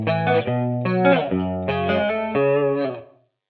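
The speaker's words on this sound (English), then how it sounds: "So nice kind of clean there with chorus." Clean electric guitar through a chorus effect in the Blue Cat Audio Axiom plugin plays a series of shimmering strummed chords, loud and close, with a lush swirling tone, ending in a short fade to silence.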